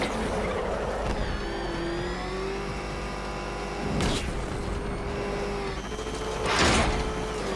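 Batmobile engine in the Arkham Knight video game during a Riddler race test, a steady droning hum with a rising whine, swelling loud twice, without speech.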